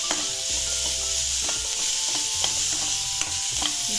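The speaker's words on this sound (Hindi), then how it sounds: "प्याज हमारा भून रहा है" Onion fries in a pan on the stove, a constant bright sizzle broken by repeated scraping and stirring strokes of a spoon against the pan, close up and with no speech.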